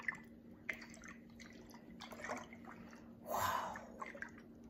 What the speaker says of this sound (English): I'm gonna shake it, shake it.